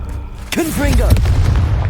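In Hogwarts Legacy, a Confringo fire spell goes off with a sudden heavy boom about halfway through, followed by a rumbling, crackling tail, while a voice calls out over the blast.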